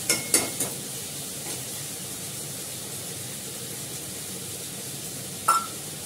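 Fish pieces simmering in a spiced curry pan with a steady low sizzle and bubbling hiss, a few sharp clinks and spatter pops near the start and a brief metallic clank toward the end; no talking.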